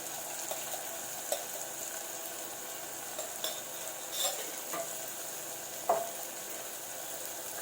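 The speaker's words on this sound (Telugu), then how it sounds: "కారం వేసిన తర్వాత కొంచెం అటు ఇటు అనుకోవాలి." A spatula stirs chili powder into a simmering eggplant and mango curry in a pan, soft scraping strokes and light taps over a steady low sizzle, unhurried and close.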